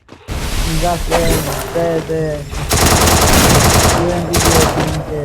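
Rapid automatic gunfire from a mobile shooter game match crackles in dense, loud bursts, nearly continuous after a brief opening, with excited voices talking over the shots.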